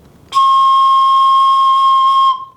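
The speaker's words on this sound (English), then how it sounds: "We'll start with a branch whistle." A single steady, shrill whistle tone from a wooden branch whistle, held for about two seconds, loud and close, then cut off.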